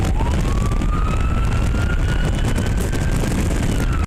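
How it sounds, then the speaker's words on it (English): A loud police-style siren wails continuously from an impersonator's vehicle on the road, rising in pitch and then holding steady, with traffic noise beneath and no pause until it cuts off abruptly at the end. "he's literally pulling cars over with that siren"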